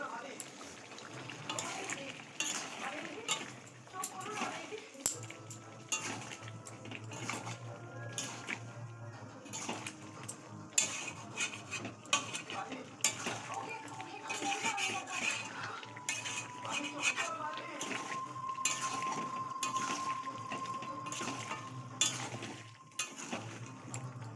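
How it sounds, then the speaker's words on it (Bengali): Potatoes are sautéed and stirred in a pan for a home-cooked dish, with repeated metal spatula clinks and scrapes over a soft frying hiss, while people talk nearby throughout. "মা আলুগুলো দিয়ে এবার কষবে"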